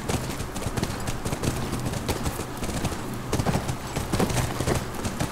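Rapid, steady hoofbeats pound at a gallop over a constant wash of ambient noise, close and loud throughout, from the video game The Last of Us Remastered on PS4.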